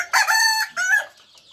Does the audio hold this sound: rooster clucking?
yes